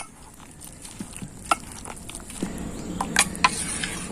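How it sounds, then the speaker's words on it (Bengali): Pitha batter of flour and water is mixed by hand in a bowl with soft, wet squelching and slapping, steady and close, with a few brighter clicks near the end. "অল্প অল্প নর্মাল জল দিয়ে ব্যাটারটাকে রেডি করে নেব হাত দিয়ে খুব ভালো করে মিশাতে হবে"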